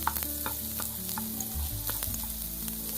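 Chopped ginger fries in hot oil in a pan for Schezwan Manchurian, giving a steady close sizzle with small crackles and pops throughout and no talking.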